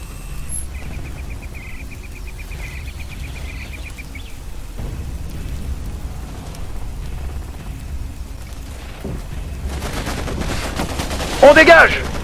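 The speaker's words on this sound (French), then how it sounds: "Il me tire dessus!" Enemy gunfire in the jungle shooter game Raven Squad, a loud burst of rapid automatic shots near the end over steady ambient game noise and insect chirping.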